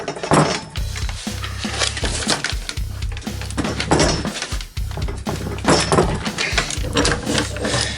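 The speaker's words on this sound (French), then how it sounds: "on va essayer de dévisser cette rotule" Ratchet-driven unscrewing of a seized steering ball joint on a Renault 4L, giving close, loud metallic clunks, creaks and grinding knocks in an irregular rhythm, with a low steady hum beneath throughout.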